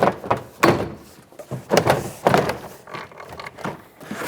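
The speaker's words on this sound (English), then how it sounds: "Now you should be able to pry out on this door panel." Plastic door trim panel being pried off a 2007-2014 Chevrolet Silverado 2500HD truck door, giving several sharp popping thunks of clips releasing, close and fairly loud, spaced about a second apart with no talking.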